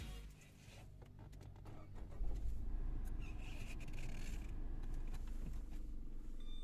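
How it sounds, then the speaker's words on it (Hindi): A Tata Nexon CNG 2021 engine starting inside the cabin, a low rumble swelling after a couple of seconds and settling into a quiet, steady idle hum, with faint creaks and clicks, no talking. "जब हम गाड़ी को स्टार्ट करते हैं तो कितनी आवाज आती है?"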